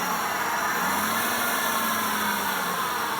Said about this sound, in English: This engine sounds a little weird to me.